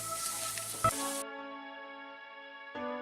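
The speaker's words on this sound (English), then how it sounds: "Heat 1 tablespoon mustard oil. Add half teaspoon whole cumin seeds, 2 bay leaf and 2 dry red chili. Saute for just 1 minute." Cumin seeds, bay leaves and dry red chilies sizzle in hot mustard oil for about a second, then the broadband hiss cuts off abruptly, leaving faint tonal hum and a brief return of sizzle at the very end.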